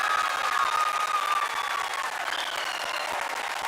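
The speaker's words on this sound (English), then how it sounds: "people are applauding" An audience applauds the Chandrayaan-3 lander module's soft landing with sustained, dense clapping from a large crowd, joined by faint cheering and thin whistle-like tones, holding steady throughout.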